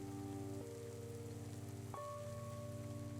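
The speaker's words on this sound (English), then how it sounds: "the rain began to pour down" Rain pours down steadily in a dense, continuous hiss, with low sustained tones droning underneath.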